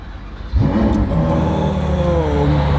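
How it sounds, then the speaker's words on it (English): A Ferrari supercar engine fires up at about half a second with a loud bark, then settles into a strong, steady rev that holds close and loud to the end, with no voices over it. "Oh, engine start"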